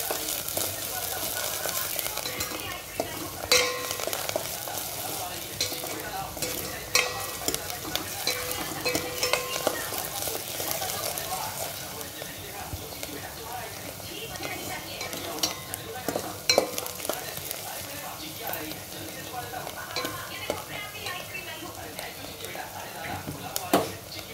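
Onions frying for a dry potato bhaji give a steady sizzle with scattered stirring and scraping against the pan, close and moderately loud throughout.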